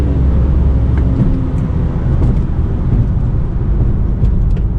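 A stock BMW 335i accelerates down a drag strip, letting the automatic shift on its own; a steady, loud engine drone fills the cabin, with slight dips in tone as it changes gear.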